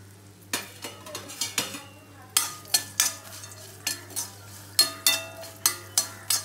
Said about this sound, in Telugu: కొంచెం క్యాషూ ఫ్రై అయ్యాక